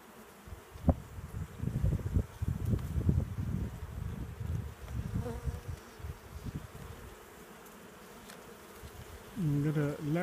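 Honey bees buzz steadily around an open beehive during an August inspection, a dense close hum with someone talking briefly over it.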